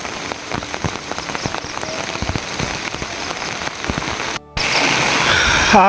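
Rain pours steadily in Mirinja Valley, Lama, Bandarban, a dense close patter of drops on surfaces with sharper individual splashes, briefly cutting out near the end before resuming louder.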